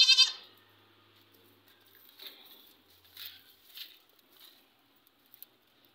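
A dairy goat bleats in a few short, thin calls spread across the clip, fairly faint and close, with a brief louder rustle at the start and quiet between calls.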